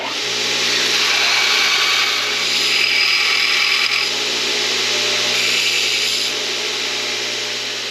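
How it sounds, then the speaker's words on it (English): An angle grinder strips the galvanized coating off the cut ends of steel tubing from an old table base. The grinding is a loud, steady, close abrasive whine that rises and dips slightly with pressure for the whole stretch, with no talking. "we want to grind all the galvanized off and straighten up the edges."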